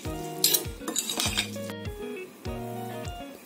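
Utensils clink and scrape against a bowl while a Mediterranean salad is mixed, with repeated metallic clinks and stirring scrapes in uneven bursts, close and clear, with no voices.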